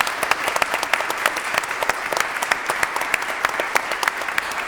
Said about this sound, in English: I think we need to give a big applause to our Ukrainian heroes joining us in Kiev